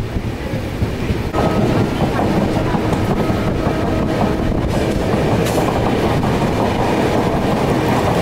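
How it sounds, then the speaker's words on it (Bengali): A passenger train on the Howrah to Malda route rumbles past near Bally station in drizzle, loud and continuous with rhythmic clattering of wheels and wind buffeting. "এই ট্রেনটা যাচ্ছে মালদা"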